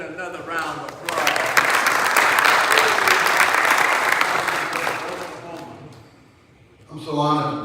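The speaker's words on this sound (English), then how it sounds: "Let's give the Senator another round of applause." An audience at a conference plenary session applauds Senator Kevin Matthews of Oklahoma, a dense burst of clapping that swells after a second, holds steadily, fades, then picks up again briefly near the end.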